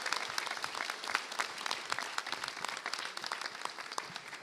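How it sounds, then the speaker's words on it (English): A room of people at a celebration of a housing right-to-counsel law claps for an honoree, fairly faint but continuous applause with individual claps audible. "Let's give a big round of applause for Randy Diller."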